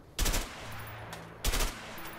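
Two loud, close gunshots in the video game A Way Out, spaced about a second apart over a low steady game background.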